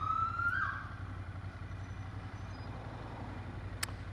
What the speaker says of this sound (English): I think I got some blue lights behind me. Ambulance.